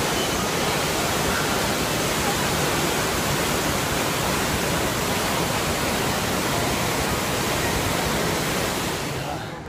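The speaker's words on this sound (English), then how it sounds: "we're just halfway up the waterfall" A waterfall in Bali roars continuously from close by, a loud, dense rush of falling water with no breaks.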